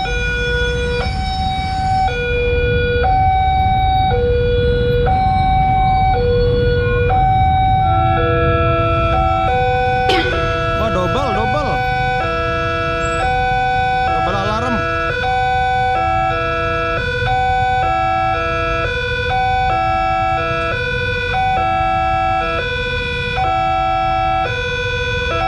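Railway level crossing double alarm sounding in a city street, two alternating electronic tones repeating in a steady stepped pattern for a long stretch, loud and close over a rumble of passing road traffic.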